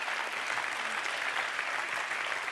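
Steady applause from the audience at an MT180 2019 thesis-presentation final in Bretagne and Pays de la Loire, continuous dense clapping filling the whole stretch.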